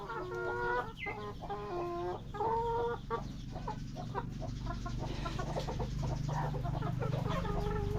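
Free-range chickens on a farm in Laos clucking busily while being fed insects, a dense, continuous chorus of close clucks and short calls with a steady background hum.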